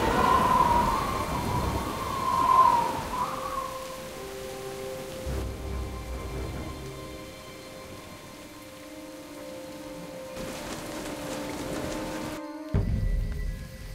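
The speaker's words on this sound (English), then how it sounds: "At least... the rain's easing up." Steady rain falls in the Jurassic Park: The Game video game, a soft constant wash of patter across the scene with low rumbling beneath, easing slightly toward the end before a brief cut and resumed noise.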